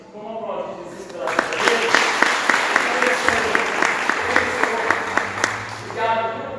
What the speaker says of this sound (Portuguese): vamos aplaudir Jesus pela